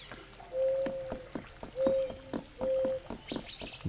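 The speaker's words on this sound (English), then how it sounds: "Darn, these are some loud birds. Actually, louder than anything in game before." Loud birds call in The Sexy Brutale video game, with repeated clear whistled notes and chirps coming in short bursts over faint background clatter.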